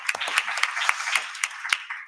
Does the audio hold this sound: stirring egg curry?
no